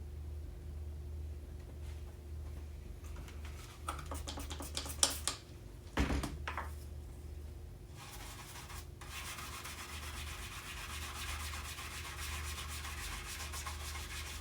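A shoe-polish or fingernail brush scrubs Windex across a vinyl record with a steady, close, rasping rub. A few louder knocks and scuffs break in midway before the even scrubbing resumes.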